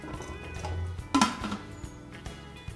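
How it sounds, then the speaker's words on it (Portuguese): A lid goes onto a cooking pot with a single sharp metallic clink midway, followed by faint light knocks in a quiet kitchen. "Tampe a panela"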